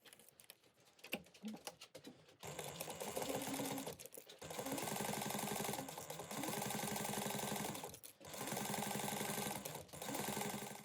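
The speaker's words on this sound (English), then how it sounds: "we're going to sew down each side at 1/8 of an inch" A domestic sewing machine stitches down both sides of a small fabric bag strap, 1/8 inch from the edge. It runs in three or four steady, close bursts of rapid motor-driven needle chatter, with short pauses and faint handling noises between them.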